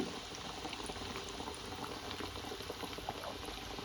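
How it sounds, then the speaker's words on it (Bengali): Gujia pastries made from flour deep-fry in oil over low to medium heat, giving a quiet, even, dense bubbling that runs without a break. "গুজিয়াগুলো লাল লাল করে ভেজে নিতে হবে।"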